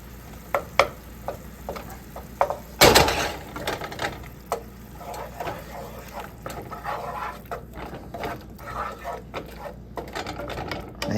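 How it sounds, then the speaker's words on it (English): Butter melting in a hot pan just taken off the heat for a red wine mushroom bordelaise with sirloin steak, giving a soft steady sizzle broken by utensil clicks and scraping, with one loud clatter early on. "Add that butter. That should melt down pretty quick."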